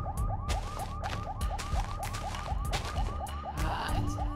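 A prison alarm siren in Minecraft wails in rapid, repeating up-down sweeps, loud and continuous, with no voices over it.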